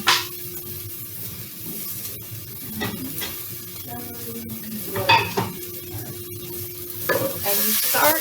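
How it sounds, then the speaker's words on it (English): Minced shallot sizzles in hot butter in a pan, a steady close fry with scattered stirring scrapes and clinks of utensil against the pan, with no talking. "And you start to cook it. And the pan's already pretty hot, so your butter's going to go up pretty quick."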